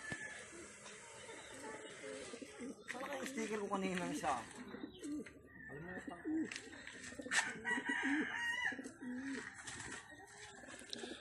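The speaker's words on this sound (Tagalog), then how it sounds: "Ang gaganda ng mga ibon ni boss." Racing pigeons cooing in a loft, soft repeated coos and bird calls close by, with people talking over them throughout.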